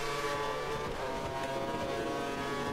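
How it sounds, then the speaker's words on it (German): A Formula 1 race car engine in the F1 2013 video game, at Monaco, gives a loud, steady, high-pitched whine with layered harmonics and slight pitch shifts, continuous and upfront with no talking. "Mein Auto hört sich scheiße an."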